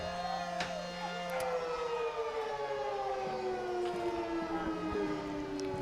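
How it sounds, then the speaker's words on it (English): A foghorn-style siren sounds at a college baseball game after a home run, a steady falling wail that holds loud for several seconds over crowd and ballpark ambience. "We get the old foghorn siren."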